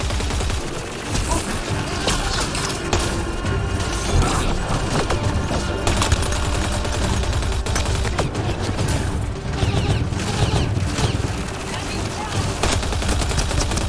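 Enemy gunfire in the sci-fi shooter game Mass Effect Andromeda, a dense, steady barrage of rapid shots and bursts running the whole time at a constant, loud level with game sounds mixed in.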